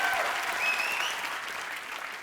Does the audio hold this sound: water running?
no